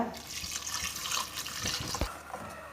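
Water splashes and gurgles as it is poured into a mixer jar, close and fairly quiet, with a few distinct drips and glugs.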